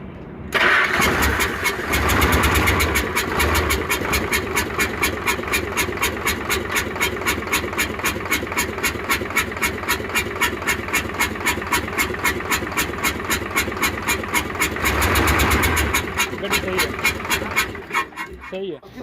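A Hino Euro diesel truck engine with a misfire fault cranks and catches, then runs steadily with a rough, rhythmic chugging knock close by, revving briefly near the start and again toward the end before cutting off; a voice speaks briefly.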